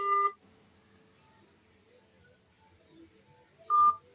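Telephone dialing tones while calling someone: a short, loud electronic beep at the start, near silence with faint background noise, then a second beep near the end.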